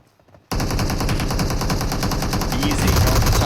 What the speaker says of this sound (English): Shots across the way, and it looks like both of them are able to take each other out